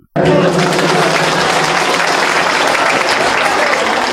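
Loud applause from a crowd at a political party anniversary event, bursting in abruptly after a brief quiet moment and continuing as steady, dense clapping to the end.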